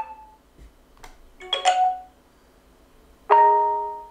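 Short notification tones on a Realme 6 Pro phone play one after another: a brief low ping, a quick click, a bright bell-like chime, then a louder ringing tone, clean and close with quiet gaps between.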